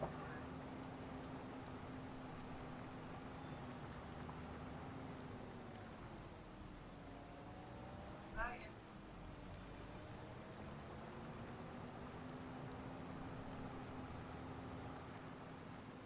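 Steady rain falls in a Farming Simulator 25 field while a tractor ploughs, a continuous wash of drops over a low engine drone, with one brief louder splash midway.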